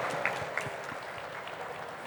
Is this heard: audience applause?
yes